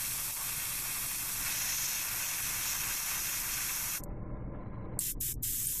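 An airbrush hisses steadily as it sprays highlight paint onto a Necron Wraith miniature's undercarriage, close and continuous, then cuts off abruptly near the end with a few short bursts.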